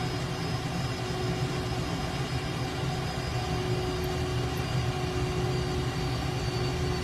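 An F/A-18 jet engine in a flight simulator game, set near Newcastle before heading out to the runway, gives a steady, even roar with a faint high whine that holds constant for about seven seconds, with no talking.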